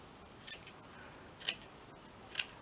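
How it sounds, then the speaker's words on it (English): Three crisp, isolated snips of small scissors cutting through lace dress fabric, spaced about a second apart in a quiet room. "Just snip through"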